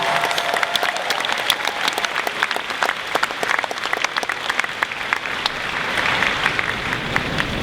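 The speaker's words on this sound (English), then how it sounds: "Please, a round of applause" An audience claps steadily for several seconds at a Comic-Con 2015 panel, a dense patter of many hands at close range.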